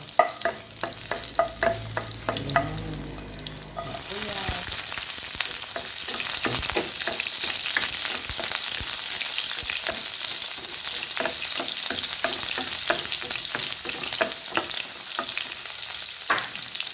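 Vegetables frying in hot oil in a pan: a steady, loud sizzle that flares up sharply after a few seconds, broken by frequent clinks and scrapes of stirring, with no talking.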